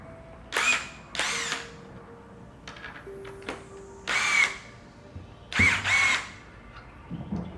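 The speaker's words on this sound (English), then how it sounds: "You're ready to go ahead and compress the spring." An ARES 15050 internal coil spring compressor, driven by a power tool, squeezes a coil spring. Four loud, close whirring drill bursts of about half a second each come with short pauses, plus a few faint mechanical clicks between them.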